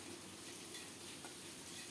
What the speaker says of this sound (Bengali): লবণ দিয়ে আলুগুলো নেড়ে চেড়ে লাল লাল করে ভেজে নেব